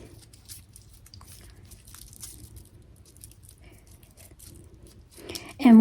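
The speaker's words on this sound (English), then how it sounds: "when the lemongrass is very fresh, it's very crunchy, breakable, I have a hard time wrapping" Fresh, crunchy lemongrass being rolled and wrapped by hand makes faint crackling and snapping over a low background rumble, ending in a louder burst of handling noise.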